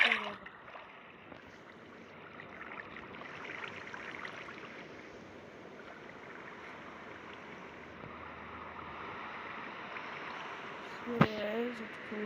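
Water flowing in the Minecraft video game: a steady, broad rushing wash that runs unbroken for the whole stretch, with one sharp click near the end.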